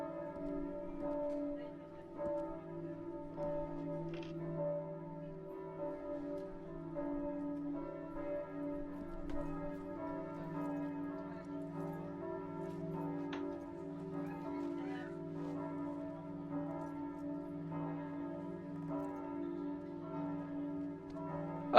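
Church bells ring on and on, a steady layered peal of sustained tones heard faint and somewhat distant, with a few small knocks and rustles nearby and no clear talk.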